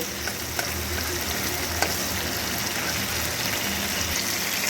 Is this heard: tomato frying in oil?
yes